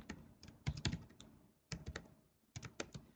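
Fingers type on a computer keyboard in three quick bursts of sharp clicking keystrokes separated by short pauses, quiet and close, with no one speaking.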